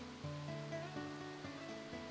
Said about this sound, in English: I'm standing on a waterfall because you can't see shit.